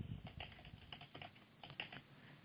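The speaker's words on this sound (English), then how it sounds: "Type in your company name." A computer keyboard tapped in quick bursts of close key clicks, with a brief pause midway before a few more strokes, heard alone.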